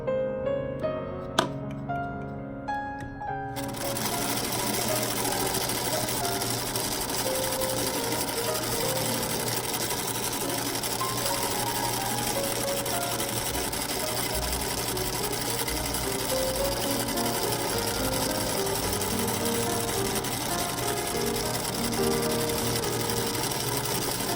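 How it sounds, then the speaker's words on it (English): A sewing machine bastes long stitches on a 1908 walking skirt. After a few light ticks and clicks, it runs in a continuous, steady mechanical whir for about twenty seconds, close and loud. "I don't usually baste by machine, but this time it seems easier than threading a needle."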